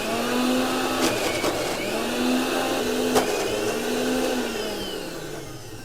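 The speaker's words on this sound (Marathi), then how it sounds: "डाळ आता आपण मिक्सरमध्ये हे थोडी करून टाकू" Mixer grinder grinding soaked urad dal for dahi vada batter, a loud whirring motor drone that rises and dips in pitch as the load shifts, with a couple of sharp clatters, running steadily for about six seconds.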